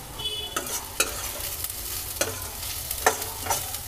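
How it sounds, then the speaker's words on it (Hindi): Onions and curry leaves frying in a pan for a corn rice dish, with a steady sizzle and scattered scraping clicks of a spoon stirring through them, close and alone. "प्याज को हम सुनहरा होने तक भून लेंगे। अब इसमें हम डाल देते हैं करी पत्ता।"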